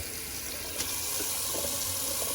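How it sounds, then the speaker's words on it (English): Cold water running steadily from a tap to rinse a safety razor during a traditional wet shave, a continuous close hiss and splash with a faint clink partway through. "let's cold water rinse it"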